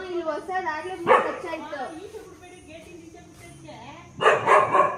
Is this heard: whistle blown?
no